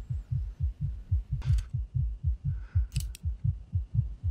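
A rapid, steady heartbeat sound effect from Interview with the Vampire thumps loud and close in a fast, regular rhythm, with a couple of brief rustles on top.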